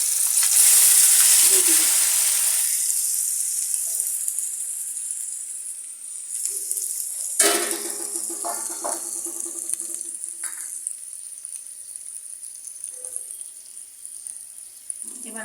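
Marinated snakehead fish dropped into a hot pan, a loud burst of sizzling frying that slowly settles into a steady crackle, with clatters of handling and a brief spoken remark.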